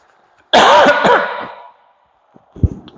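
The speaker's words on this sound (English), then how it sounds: "I got a cough." A single loud, harsh cough up close, trailing off into a breathy rasp, followed by quiet and a faint bump.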